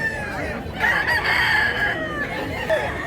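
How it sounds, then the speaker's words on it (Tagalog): A rooster at a chicken market in Mantalungon, Cebu, gives one loud, close, drawn-out crow that rises and holds, then breaks off with a short trailing note, with faint talk underneath. "Gandang manok."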